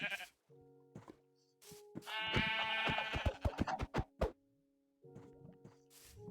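Minecraft sheep bleat repeatedly in short, stylized calls, mixed with soft thuds and plopping knocks, with brief silences between bursts.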